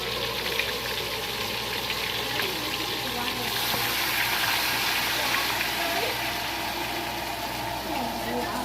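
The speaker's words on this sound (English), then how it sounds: "So I'm going to add some water." Water is poured into a cooking pot while Mexican food is prepared for dinner, giving a steady rushing, hissing noise that runs throughout, with a voice faintly present alongside it.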